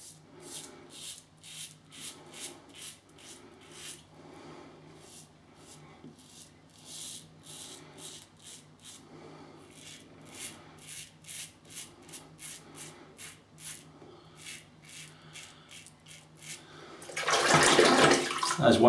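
A Merkur 37C safety razor shaving lathered with WSP Vetiver soap, giving a rhythmic series of short scraping strokes at close range, followed at the end by a burst of running water as the razor is rinsed.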